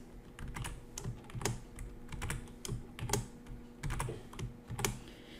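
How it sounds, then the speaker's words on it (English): Quick keystrokes on a computer keyboard typing exclamation points, a steady run of close, crisp clicks in small bursts with no talking. "I'm going to have to type an exclamation point 5 separate times"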